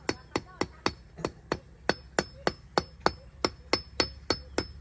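A hammer strikes concrete blocks being laid into a wall, about fourteen sharp, evenly spaced knocks in a steady rhythm, close and clear with no talking.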